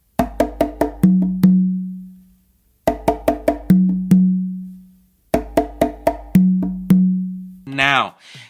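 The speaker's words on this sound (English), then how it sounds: "So it'll sound like this when you're transitioning back to the pattern." Conga drum slaps and open tones play a funk pattern in three repeated phrases, each a quick run of sharp slaps ending in two ringing open tones. A brief vocal sound follows at the end.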